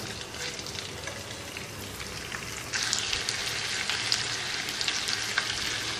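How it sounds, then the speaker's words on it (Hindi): Chicken pieces fry in butter in a karahi, a dense continuous sizzle that grows louder partway through, close up, with no talk. "अब इसके अंदर ये चिकन शामिल करके चिकन को अच्छी तरह से भून लेंगे।"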